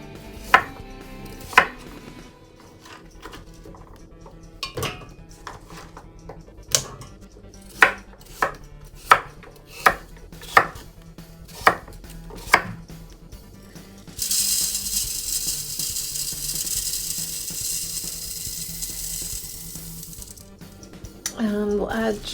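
Knife chopping carrots into chunks on a board, a series of sharp irregular thuds, then a stretch of sizzling hiss near the end with a few more chops.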